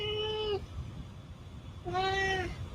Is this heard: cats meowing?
yes